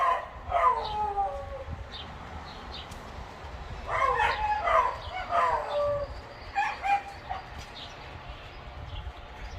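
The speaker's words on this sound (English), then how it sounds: "Maybe they're gonna respond to that dog barking" A dog gives odd, drawn-out yelping barks in a few bursts, somewhat distant, with quiet pauses between them over low background rumble.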